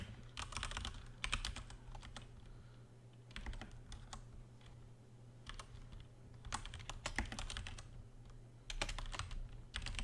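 Steady computer keyboard typing while code is copied out in VB.NET, arriving in quick bursts of clicky keystrokes separated by short pauses, close and clear over a low constant hum.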